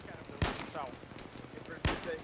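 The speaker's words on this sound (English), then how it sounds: "I'm shooting at him right now." Two sharp, loud gunshots spaced about a second and a half apart in a military video game, with radio-style voices talking between them.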